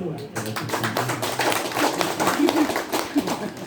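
Audience clapping at a Halal Bi Halal sermon gathering, a close, uneven burst of hands with chatter underneath.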